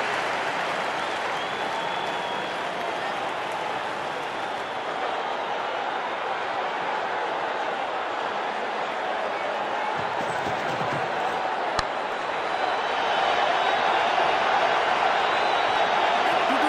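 A cricket crowd at a T20 international between Sri Lanka and Afghanistan, a dense, continuous wash of cheering and applause filling the stadium, steady and loud throughout, with a commentator talking over it.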